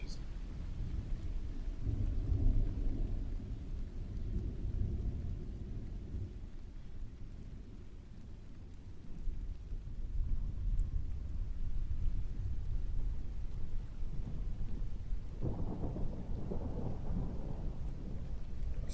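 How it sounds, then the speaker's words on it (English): Rain falls steadily during a thunderstorm, with deep rolling thunder rumbling loudly at the start and again near the end beneath the constant soft patter. "Sashi putting Gary in the rain again"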